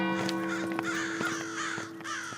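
Crows cawing near Madingley Hall in Cambridgeshire at dusk after sundown, several harsh calls repeating at irregular intervals over a steady background hum, fairly close and clear with no talking.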